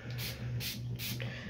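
Makeup setting spray misted from a bottle onto the face, three quick hissing spritzes in even rhythm, close and crisp over a low hum, no talking.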